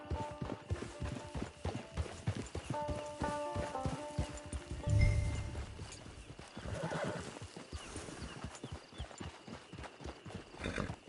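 A horse in a video game, hooves clip-clopping in a close, steady rhythm, with a whinny partway through and a soft snort near the end, and no talking.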